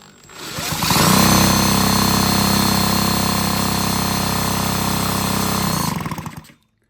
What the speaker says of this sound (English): I'm going to spin this motor over and just confirm that we don't actually have spark